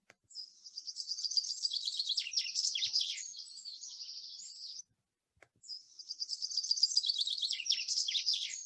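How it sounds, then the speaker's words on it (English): A chaffinch sings its song twice, two bright, fast, jingling phrases a few seconds long with a brief gap between them, clear and close against a silent background. "One of our commonest finches, the constituent of most finch flocks that you'd see in the winter, would be a chaffinch. This is the song."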